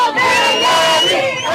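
Crowd of several hundred cheering and shouting in a Tel Aviv square outside military headquarters as freed hostages appear on a big screen; a dense, loud, sustained roar of voices with whoops rising through it.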